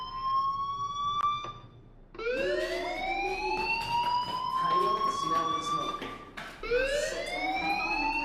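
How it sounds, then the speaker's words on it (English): A fire alarm in the video game Life Is Strange wails in rising, repeating siren-like sweeps, loud and continuous, with brief breaks between cycles. "Hey, do you hear that fire alarm?"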